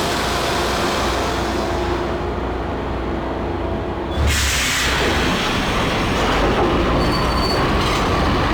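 Train in the Max Payne video game, a steady rumbling rail roar with wheel squeal and rattling carriage noise. It grows louder and denser about halfway through, and no one speaks.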